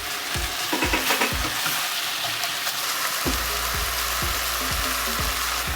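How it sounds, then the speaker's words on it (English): Ground beef browns in a pan for nachos, frying with a constant sizzle while a spatula breaks it up and stirs it in regular scraping strokes, close and fairly loud. "We're going to stir it all in together."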